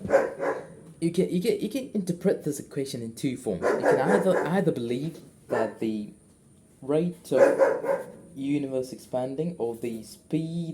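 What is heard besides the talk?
dog barking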